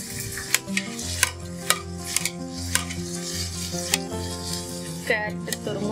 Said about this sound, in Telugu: ఆనియన్స్ బాగా ఫ్రై అయ్యాయండి. మనం కరివేపాకు అండ్ ఉడికించిన బఠానీ